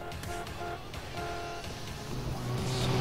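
A vehicle passes in the video game GTA San Andreas, its engine tone shifting in pitch with the Doppler effect and swelling steadily louder toward the end of the clip.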